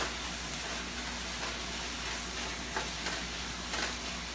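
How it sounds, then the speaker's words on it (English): Ground beef taco filling hisses loudly and steadily in a pan as tomato goes in, a dense close sizzle with faint stirring scrapes. "I'm gonna go ahead and add a tomato"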